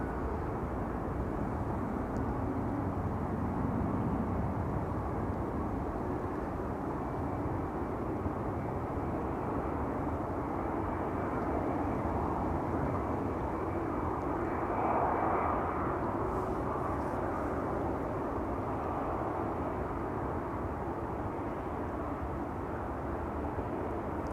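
Airplane engines at Schiphol Airport rumble as a continuous broad roar, steady and moderately distant, with no one talking over it.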